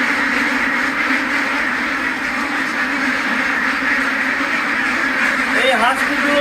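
Chinese meat ducks, heavy birds raised to about three kilograms in 45 days, quack in a steady, dense chorus on a Bangladeshi farm. The flock stays loud and continuous throughout, with a few sharper calls standing out near the end.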